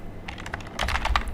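Form details are typed on a computer keyboard, a short burst of quick, close key clicks that grows busier and slightly louder toward the end, with no voices.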